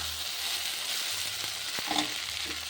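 Okra (vendakkai) stir-frying in a pan on low heat, a steady soft sizzle with a few light stirring clicks and scrapes running throughout, no voices.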